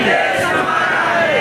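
A crowd at an outdoor rally chants a slogan together in a loud, reverberant unison roar that holds steady for a brief moment.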